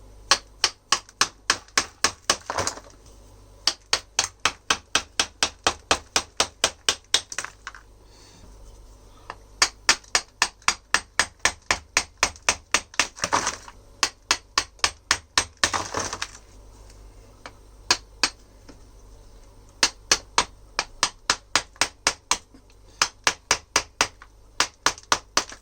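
Sharp hammer blows on a chisel chip away at a dragon stone rock, struck in fast, steady bursts of clinks separated by short pauses, close and fairly loud.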